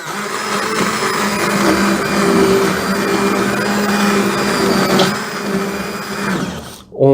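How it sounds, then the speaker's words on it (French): A blender purées a pot of vegetable soup, a loud steady whirring motor hum that runs continuously for several seconds before cutting off abruptly at the end. "Suffit de mixer."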